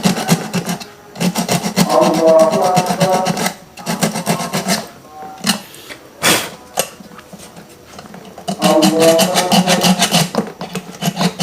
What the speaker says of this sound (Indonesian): Kita amplas sampai dia terasa bersih.